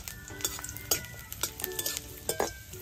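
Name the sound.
garlic and chili being stir-fried in a pan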